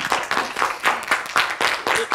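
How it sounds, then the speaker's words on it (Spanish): Clapping audience greeting a female doctor, a steady moderately loud patter of many hands, close and continuous with no voices over it. "Un aplauso a la doctora"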